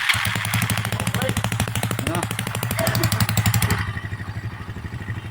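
Carbureted motorcycle engine with a 4-pin CDI and fitted exhaust starts and runs at a rapid, steady, loud putter close by, then settles quieter near the end.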